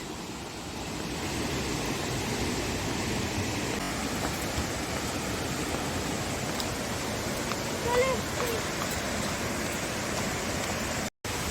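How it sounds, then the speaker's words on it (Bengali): A waterfall near Ranchi, a loud, steady rushing roar of falling water heard close and continuous, cutting out briefly just before the end. "এবার তোমরা বোধহয় ক্যামেরায় আওয়াজটা শুনতে পাচ্ছ ঝর্ণার জলের।"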